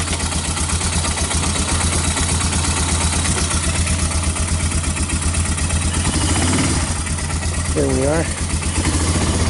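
A 1999 Yamaha Bear Tracker 250 ATV engine idles close by in cold weather with the choke partly on, a steady loud putter throughout, with someone speaking briefly over it.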